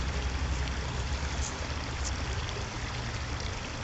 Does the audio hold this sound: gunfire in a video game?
no